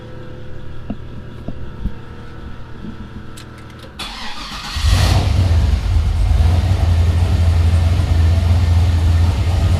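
A turbo LS-swapped Chevrolet S10 truck engine cranks and catches about halfway through after quiet ambient noise, then settles into a loud, steady, rumbling idle close by.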